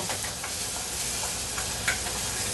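Food frying in a pan while being stirred, a constant close sizzle and hiss with scattered soft scrapes and taps from the stirring.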